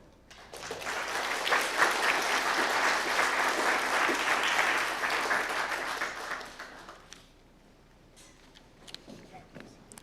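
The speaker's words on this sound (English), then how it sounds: "I think we should give all of our presenters one more round of applause" Audience applause for presenters at an academic distinguished lecture on survey methodology, a dense, steady round of clapping lasting about six seconds before fading into a quiet room with a few scattered claps.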